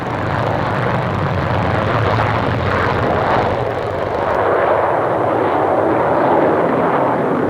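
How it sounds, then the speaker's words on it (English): A de Havilland Comet 3 jet airliner flies past at the Farnborough air show in the 1950s, a loud, continuous rushing roar that swells and holds throughout. "Comet 3 and Comet 2 flew together at the Farnborough show."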